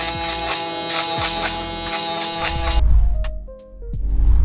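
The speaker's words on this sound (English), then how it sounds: "we're gonna use our fabulous shaver" An electric shaver hums steadily while trimming hair at the taper during a drop fade on curly hair, loud and close with a continuous buzz, then shifts to a lower, rougher droning as it moves against the head.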